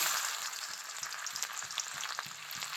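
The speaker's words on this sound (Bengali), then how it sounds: "তেল খুব ভালো করে গরম হয়ে গেছে এবার আমি দেব রসুন কুচি" Chopped garlic fries in well-heated oil for chilli chicken, giving a soft, continuous sizzle with small pops and crackles. It stays fairly quiet and no one speaks.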